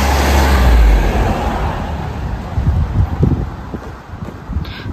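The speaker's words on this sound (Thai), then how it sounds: "ตอนนี้ลมแรงแรงพี่น้องลมแรงมาก" Strong wind gusts roar across the microphone outdoors on a walk abroad, a loud continuous low rumble with rustling that swells and eases, with no talking.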